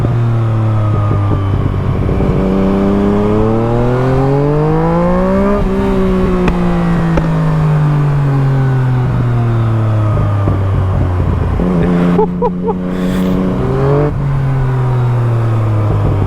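A gen 2 Yamaha MT-09 motorcycle engine revs loud and close, its pitch sweeping up and down in long repeated rises and falls, with no talking over it.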